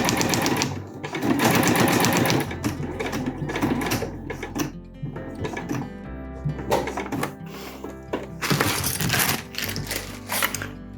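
A sewing machine stitches a homemade lightweight backpack strap in short, uneven runs of rapid mechanical clatter, broken by pauses and small clicks as the work is turned at a corner.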